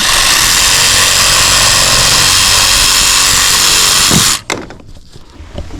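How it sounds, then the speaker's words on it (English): A loud power tool cuts through PVC pipe, a steady high whining buzz that runs for about four seconds, then stops abruptly and leaves quieter room noise. "The joy of PVC, it's easy to work with for you guys at home. It's easy to cut."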